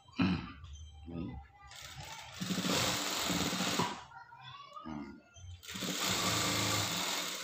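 Sewing machine stitching school trousers, running in several bursts of rapid mechanical whirring that start and stop, with someone speaking softly between and under the stitching.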